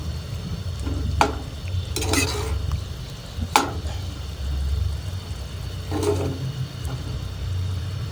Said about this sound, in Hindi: चम्मच के साथ सब इंग्रेडिएंट्स को अच्छी तरह हिलाते जाएं।